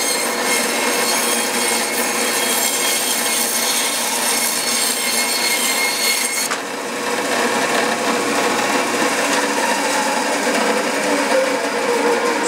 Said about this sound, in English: it's going to be a diagonal cut on my bandsaw